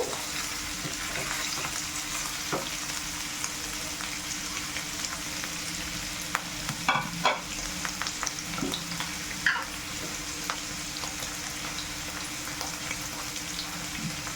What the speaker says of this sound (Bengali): চিকেনটা আমি পেঁয়াজের সাথে একটু ভেজে নিচ্ছি।